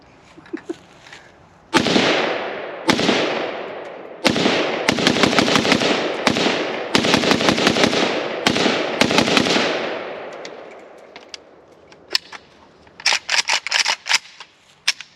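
A Pioneer Arms AKM sport rifle fed from a budget 40-round magazine fires loud, close shots, first single cracks and then rapid strings of rounds with ringing decay, ending in a quick cluster of shots.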